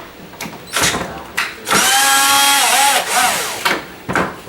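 A power drill tries to back out stripped screws holding a kitchen cabinet, giving several short whirring bursts and one longer whine that rises and falls, close and loud.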